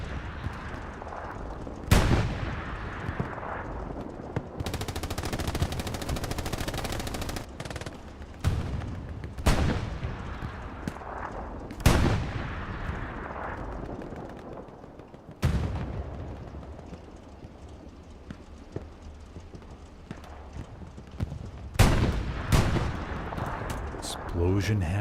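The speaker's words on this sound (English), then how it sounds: "Explosion happens down to the bottom." Explosions and gunfire in the World War II shooter Hell Let Loose on Utah Beach, with several sharp booming blasts and their decaying rumbles amid scattered shots, with some players' voices faintly mixed in.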